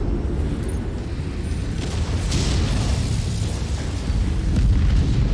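A big explosion in the video game MechWarrior 5 Mercenaries, a dense sustained rumbling boom that fills the whole stretch at steady loudness, with no speech over it.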